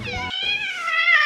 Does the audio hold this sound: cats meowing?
yes